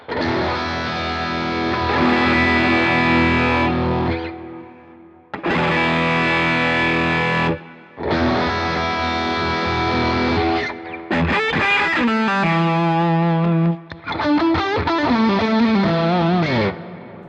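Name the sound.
electric guitar, bridge pickup, through Helix Stadium XL or Quad Cortex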